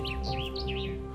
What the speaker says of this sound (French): À l'aide d'une application, les deux scientifiques reproduisent le chant des oiseaux pour attirer des candidats.